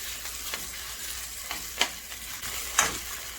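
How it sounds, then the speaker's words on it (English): Tomato paste is stirred with onions, garlic and thyme in a sizzling pan for oxtail lasagna, with quiet frying and several scraping strokes of the spoon, a couple of them sharper and louder. "I'm just going to mix my tomato paste with the onions,"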